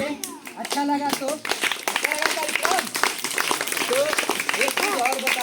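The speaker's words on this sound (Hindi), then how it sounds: "तो एक बार जोरदार ताली होनी चाहिए।" An audience claps at an outdoor street play, a dense patter of hands running steadily throughout while children and other voices talk and call out over it.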